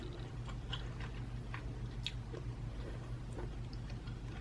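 Someone eats bacon-stuffed meatloaf muffins with gravy at close range, making faint wet chewing and small soft clicks over a low steady background hum, with no talk.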